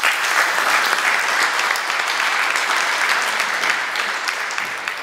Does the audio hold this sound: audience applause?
yes